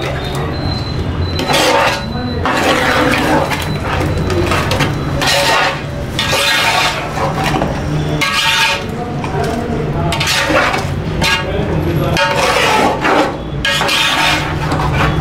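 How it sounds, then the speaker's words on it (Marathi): Stirring and mixing a large five-kilogram batch of chicken dum biryani ingredients with fried onions in a pot, giving continuous close scraping and rasping strokes in an uneven rhythm, with no talk. "आता याला आपण ते टाकल्यानंतर हे सगळं पूर्णपणे मिक्स करून घेऊ"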